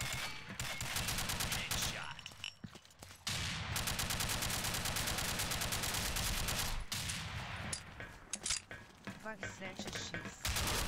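Rapid automatic gunfire from the online shooter Combat Arms in fireteam play, dense bursts nearly continuous with short pauses, loud and close.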